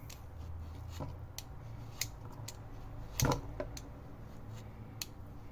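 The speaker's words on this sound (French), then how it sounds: "Donc, je coupe des copeaux." A bar of Marseille soap being cut into shavings with a knife, giving a series of quiet, sharp, irregular scraping clicks and snaps up close, with one louder crunch midway.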